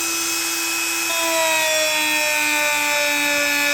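Power tool whirring steadily against an old carbon steel Klein electrician's knife to strip rust, a constant high whine that climbs in pitch and loudness partway through.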